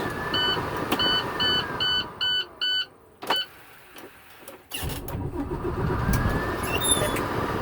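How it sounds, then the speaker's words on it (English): A commercial vehicle's engine starting during a pre-trip inspection, preceded by a series of dash beeps, then a loud crank and catch that settles into a steady idle. "Now I'm going to safe start my vehicle."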